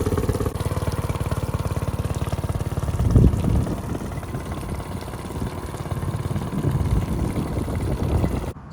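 A Honda BF15 outboard engine idles steadily with fresh oil after a filter change, a close, even mechanical chugging throughout with a brief louder knock partway through and the running settling back to a slightly uneven beat.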